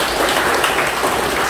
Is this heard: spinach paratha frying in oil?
no